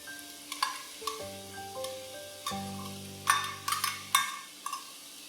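Prawns, garlic and vegetables sizzle and fry in a pan, with a soft steady hiss under scattered sharp clinks and scrapes of stirring, sounding close and moderately quiet.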